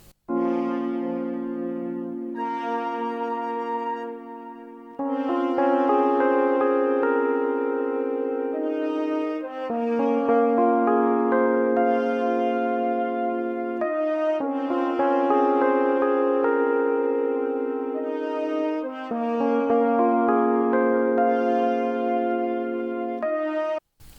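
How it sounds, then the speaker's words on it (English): A Lounge Lizard electric piano preset plays mellow, sustained chords with gentle arpeggiated notes, continuous and fairly loud, changing chord every few seconds with no voices. "but with this electric piano from Lounge Lizard,"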